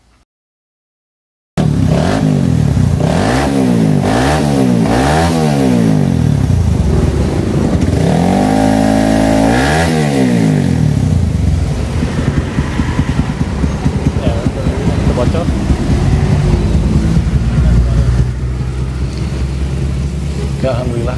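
A Suzuki Satria FU motorcycle with an aftermarket exhaust, its leak just repaired, is revved close up in a repeated series of rising and falling blips, then settles into a loud, rough, steady idle.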